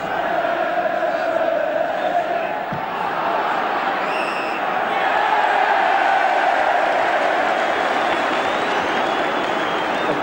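A large football crowd at Everton versus Bayern Munich in a 1985 Cup Winners' Cup semi-final roars and cheers steadily, a loud sustained stadium swell with a brief dip midway.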